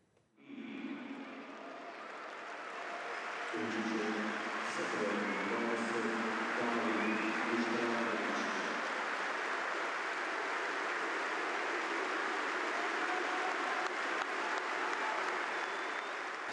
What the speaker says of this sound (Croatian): Stvarno lijep osjećaj, tako dobiti aplauz na izlasku s terena.